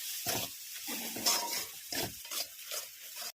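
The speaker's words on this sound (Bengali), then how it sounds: "এবার একটু হলুদ গুঁড়ো দিয়ে দিলাম। কষছি এবার" Chicken being sautéed with turmeric in a pan for a red chicken curry, with repeated scraping stirs over a steady sizzle, several distinct spoon strokes close up, no talking.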